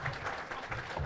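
Audience at a church convocation panel applauding as a priest comes up, a brief burst of steady hand clapping from a crowd in a hall.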